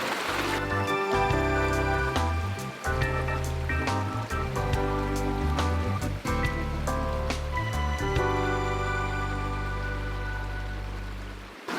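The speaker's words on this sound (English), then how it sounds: "The space that turns into an exquisite" A cascade of waterfalls in a botanical garden spills and splashes steadily nearby, a continuous wet rush with scattered drips and splatters throughout.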